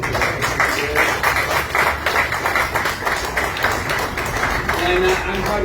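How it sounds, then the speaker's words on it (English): Round of applause for Senator Whitehouse at the Route 146 groundbreaking ceremony, a steady outdoor crowd clapping, moderately loud and sustained, with some voices in the mix. "I think he deserves another big round of applause"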